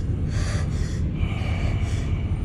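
Creature breathing on a woman's neck in a horror film, heavy snorting breaths in two or three drawn-out pulses over a low rumble, close and fairly loud, no speech.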